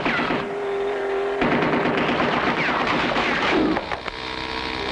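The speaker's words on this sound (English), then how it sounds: "they're firing on us from the gun turret" Cartoon gunfire from a gun turret aimed at a car on a rocky road, rapid repeated bursts over a steady engine drone and music, loud and continuous, no talk.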